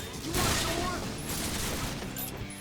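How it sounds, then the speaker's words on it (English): A grenade blast in the video game Resonance of Fate sets off a dense, roaring burst of explosive crackle and gunfire-like bangs that stays loud throughout, with a voice talking over it. "That's probably what was the compound explosion with that one grenade."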